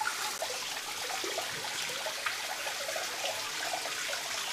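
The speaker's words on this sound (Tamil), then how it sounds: "இப்போ தண்ணியை விடுவது பிள்ளையார குளிக்க பார்க்குறோம்" Water is poured over a Ganesha idol for a ritual abhishekam bath. A steady, close splashing flow carries on unbroken without pause.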